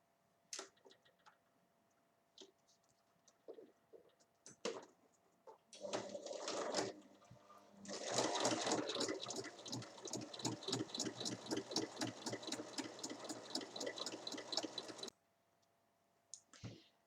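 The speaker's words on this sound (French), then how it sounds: "je vais venir piquer à 1 mm du bord de chaque côté" A sewing machine stitches fabric for a hanging basket, running a seam 1 mm from the edge. Scattered clicks come first, then the machine starts with rapid, even stitching, pauses briefly, and runs steadily for several seconds before stopping.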